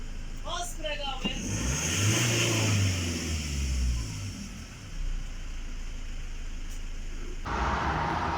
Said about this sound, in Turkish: Şu an egzoz ölçülüyor.